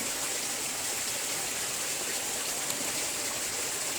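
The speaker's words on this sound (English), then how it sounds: "kind of where the water comes out of the mountain. Here, by the fishermen, the pillar and the waterfall, the secret waterfall," Steady rushing water of a small waterfall pouring out of a mountainside at a secluded spot, a constant broadband hiss with no breaks, fairly close and even throughout.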